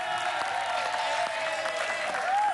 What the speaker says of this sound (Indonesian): Lanjut, tepuk tangan buat Erin.